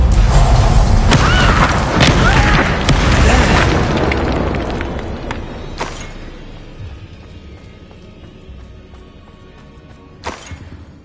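A Bombarda blasting spell going off in the Hogwarts Legacy game: a loud, booming explosion with crackling bursts at the start, fading into a long rumbling tail, then a sharp pop near the end.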